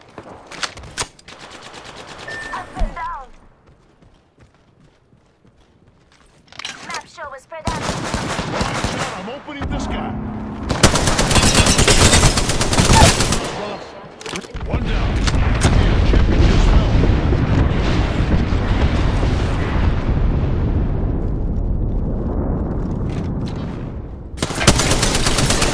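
Bursts of automatic gunfire and loud booming shots from the Apex Legends video game, heavy and sustained in long stretches separated by brief quieter gaps, with a sharp burst near the end.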